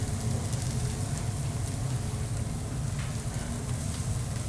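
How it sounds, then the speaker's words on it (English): Sous vide meat gets a hard sear on an induction burner, giving off a continuous loud sizzle with a crackling, rain-like texture and no talk. "gave it a really beautiful hard sear"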